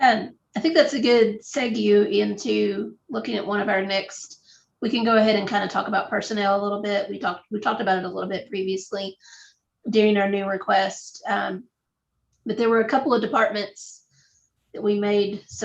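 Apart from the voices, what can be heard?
No everyday noises stand out.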